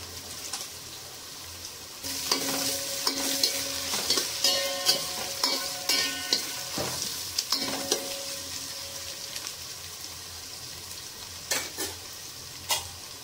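Rice boils in a pot of water alongside whole fork-pricked potatoes for aloo biryani, giving a steady bubbling hiss broken by repeated light clinks and scrapes of stirring, with no talking.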